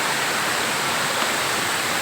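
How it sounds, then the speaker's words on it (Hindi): Sungai Pisang waterfall near Kuala Lumpur, Malaysia, pours down among dense trees, a loud, steady broadband roar of falling water that fills the scene without a break. "दरख्तों के झुंड में ये देखें पानी ऊपर से गिरता हुआ।"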